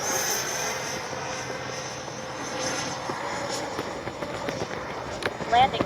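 A Freewing MiG-29 RC jet flying overhead: a steady, rushing engine drone that holds fairly loud throughout, with a voice talking over it outdoors.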